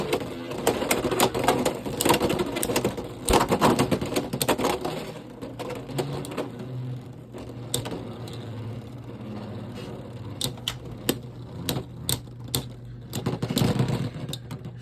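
Hasbro Beyblade X Cobalt Dragoon spinning top battling in a plastic stadium, a steady whirring hum broken by rapid sharp clicks and collision clacks, close and continuous.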